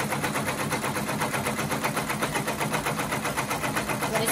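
Embroidery machine doing tack-down stitching for 3D puff embroidery on a hat, a steady rapid mechanical chatter of needle strokes running continuously at even loudness throughout.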